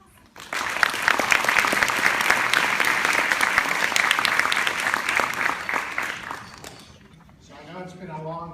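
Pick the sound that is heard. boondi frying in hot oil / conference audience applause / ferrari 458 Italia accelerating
conference audience applause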